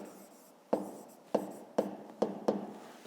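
A pen writes by hand on paper while a fifth-grade maths exercise is worked out, several quick distinct strokes in an irregular rhythm, close and fairly quiet, with no talk.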